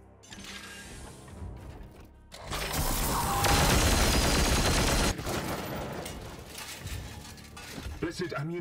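Support gunfire in the Warhammer 40k game Chaos Gate: Daemonhunters erupts as a loud, dense fusillade of booming shots that fills about three seconds, then drops into a rumbling, crackling tail with scattered impacts.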